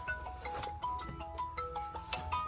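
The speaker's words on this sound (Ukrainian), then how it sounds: "Хтось дзвонить." A mobile phone rings with an incoming call: a repeating electronic melody of bright tones, fairly quiet against a low background rumble, with no one talking.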